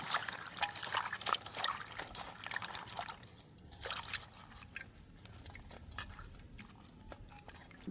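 Large onions being rinsed in water by hand in a home kitchen: steady close trickling and splashing with irregular sloshes and drips, no talking.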